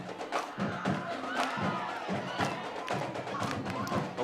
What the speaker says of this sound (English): Lively crowd tonight.